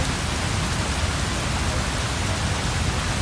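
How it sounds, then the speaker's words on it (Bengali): Heavy rain pours steadily during a long wet spell, a dense, even hiss of falling water with no pauses or voices. "আজকে প্রচুর বৃষ্টি পড়তেছে"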